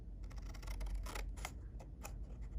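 Scissors cutting a paper box flap off, giving close, faint crisp snips and crunches in quick sequence, with no voices.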